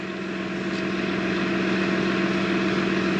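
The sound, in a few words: farm tractor engine idling while warming up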